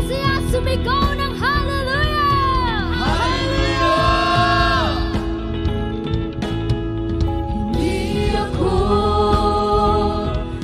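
At a church youth gathering a large crowd shouts and cheers loudly and continuously, voices rising and falling in excited yells and whoops, all at close range.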